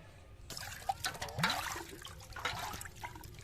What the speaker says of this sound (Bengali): নিয়ে ভালো করে বাঁশগুলো ধুয়ে নেব। ঝাঁকি ঝাঁকি ধুতে হবে, ভিতরে কিছু থাকবে না তাহলে।